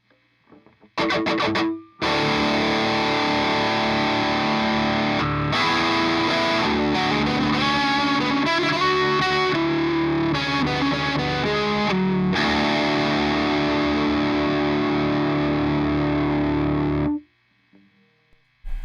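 Electric guitar through a Karsten amp, close-miked with only a 57 and the room mic off: a loud, sustained, distorted tone with chords and shifting notes ringing for about fifteen seconds before cutting off.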